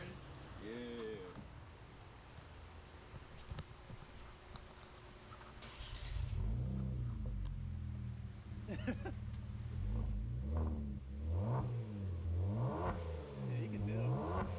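A six-cylinder car engine with its rear mufflers removed idles, then revs repeatedly in rising and falling pulses, close and fairly loud, with people talking over it.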